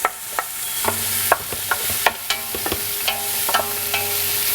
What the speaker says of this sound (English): adding my onions. Fry that up a little bit